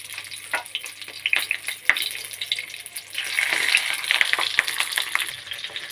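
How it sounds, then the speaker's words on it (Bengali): Mourola fish paturi wrapped in banana leaf sizzles in hot oil in a wok, a steady crackling fry with sharp clicks and scrapes from handling, growing louder and busier in the second half. "কড়াইয়ে পাতুরিটা এবার দিয়ে দেওয়া হলো কলা পাতাটাকে"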